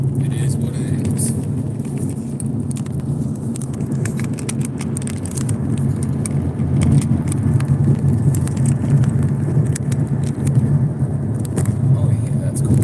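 Cars in traffic on a hot California road near the border rumble steadily, with engine hum and passing vehicles under a constant low drone, picked up from inside or beside a car.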